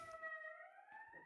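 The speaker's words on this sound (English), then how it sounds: "so those sirens were real" A distant emergency siren wails faintly outside, its steady rising tone passing under quiet room ambience.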